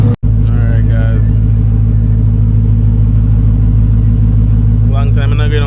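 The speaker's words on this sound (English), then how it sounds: "he says he's gonna just do like a full wheel drive burnout and see how that goes" Twin turbo Ford F150 truck engine rumbling loudly and steadily at the track during an all-wheel-drive burnout, a constant low drone throughout with brief voices near the start and end.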